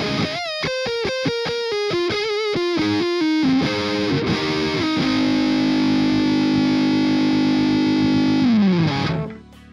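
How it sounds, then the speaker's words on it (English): Heavily saturated electric guitar lead through a Legacy Drive preamp pedal with the gain switch engaged, recorded direct with a speaker simulator: fast picked notes give way to a long sustained, loud note that cuts off at the end. "Kicking on the gain switch gets us that super saturated lead"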